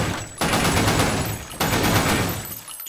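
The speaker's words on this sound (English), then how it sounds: "burst firing." A rifle in the Blackshot Online shooter game fires two loud, close bursts of rapid shots, each roughly a second long, with a short pause between them.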